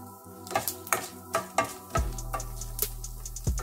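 A utensil scrapes and clinks against a pan while split black gram and Bengal gram fry, with sharp taps at a steady rhythm over a low sizzle that swells near the end.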